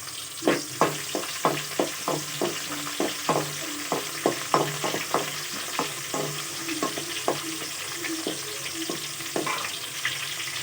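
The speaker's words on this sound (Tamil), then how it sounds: "20 சின்ன வெங்காயமும் இப்போது நல்லா வதக்கிக்கலாம்" About twenty small shallots are sautéed in a pan for a village-style fish kuzhambu: a sizzle runs under rhythmic spatula scrapes and taps that come quickly at first, then ease off.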